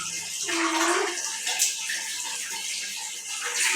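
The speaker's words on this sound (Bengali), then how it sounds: "পানি অফ করো।" A tap runs steadily into a basin while someone rinses their mouth during tooth brushing, a close, continuous splashing flow with a brief voice-like sound near the start.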